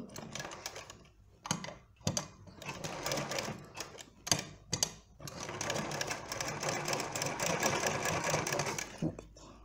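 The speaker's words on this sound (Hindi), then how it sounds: "ये जो जगह है इसमें ही अंदर को सिलाई डालेंगे" A sewing machine stitches fabric for a party-wear crop top and skirt in short bursts of rapid rattling, stopping and starting, then running longer, loud and close.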